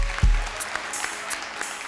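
Studio audience clapping on a Ramadan quiz show, a short, moderately loud burst of applause following a sharp thump at the start.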